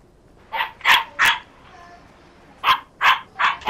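A dog barks in two quick bursts of three sharp barks each, loud and close, with a short quiet gap between them, heard over a Fortnite game session.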